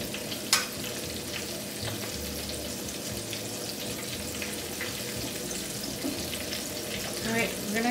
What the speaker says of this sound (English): Continue frying this